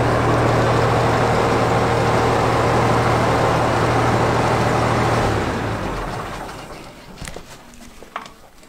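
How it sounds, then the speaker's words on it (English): A military truck engine idles with a steady, low, even rumble that runs for several seconds, then dies away into near quiet with a few small knocks. "Now listen to that motor purr."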